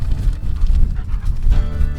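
A young German Shepherd puppy pants close up, in quick, rhythmic, breathy huffs that go on steadily for about two seconds, with no talk over it.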